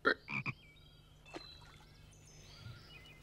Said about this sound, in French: Plus tard, ils deviendront des grenouilles.